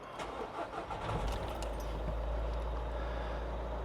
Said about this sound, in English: Let's just start it up.